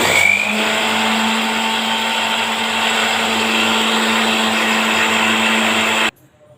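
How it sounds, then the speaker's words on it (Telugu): A mixer grinder grinding soaked rice whirs steadily at full speed with a loud, even motor drone, then cuts off abruptly near the end. "కొద్దిసేపు మిక్సీ పట్టి"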